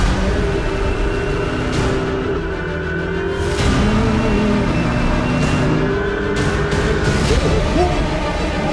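Touring car engines from a TCR Europe race at Portimao hold a steady, dense roar, with broad engine noise sustained throughout and brief surges as cars pass close.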